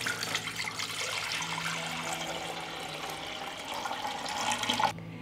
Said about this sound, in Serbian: u njega ću sipati litar hladne vode